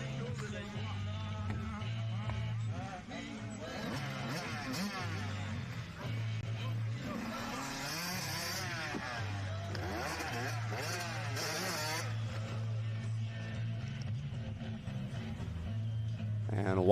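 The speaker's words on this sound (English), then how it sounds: "watching the Kawasaki machine of Austin powering his way around the outside, launching over that tabletop" Kawasaki motocross bike racing around a practice track, its high revving engine buzzing and rising as it launches over a tabletop jump, heard under continuous commentator speech.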